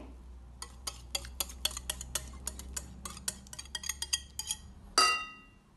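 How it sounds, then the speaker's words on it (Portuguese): A utensil clinks against a bowl while whisking cake batter of sugar, eggs, lemon zest and natural yogurt, a quick, steady run of bright taps ending in a sharper knock. "Vamos misturar aqui"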